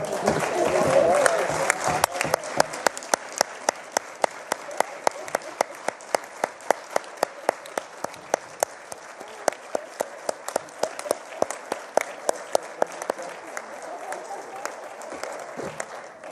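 Audience applause at an International Day of Women and Girls in Science event, a sustained crowd clapping with sharp, regular claps standing out, starting dense and gradually thinning over about sixteen seconds.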